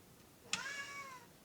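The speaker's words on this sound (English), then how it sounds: "cat's meowing" Cat giving one clear, drawn-out meow that falls in pitch, fairly close and alone over a faint room hiss.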